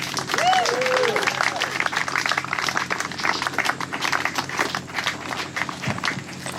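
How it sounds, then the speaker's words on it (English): An audience at an outdoor historical marker dedication applauds in a steady wash of clapping, with voices speaking over it and a brief whoop early on. "can everyone give a round of applause for assembling Fred Field?"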